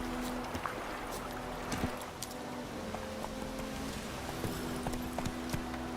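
Roach, a horse in the video game The Witcher 3, trots with steady clip-clop hoofbeats over a low ambient hum and faint background noise. No one speaks.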